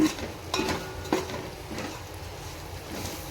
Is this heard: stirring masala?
yes